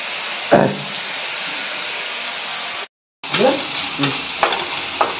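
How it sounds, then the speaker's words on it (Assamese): Ingredients frying in a home-kitchen pan for paneer fried rice, a steady sizzling hiss with stirring clatters, broken by a brief silent gap before the sizzle and scraping resume, with faint speech nearby. "এইটো অলপ ভাজি ল'লোঁ"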